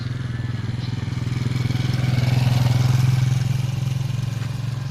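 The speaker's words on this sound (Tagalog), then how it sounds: "Ay, motor." A motorcycle passes nearby on a rural road, its steady mid-pitched engine drone swelling louder toward the middle and then easing off as it moves on.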